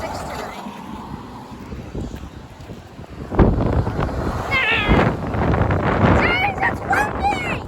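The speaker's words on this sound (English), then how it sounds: "Why is it so windy?" Strong wind gusts buffet the microphone outdoors, a rumbling low roar that swells louder midway, with children's voices and high, squealing cries over it.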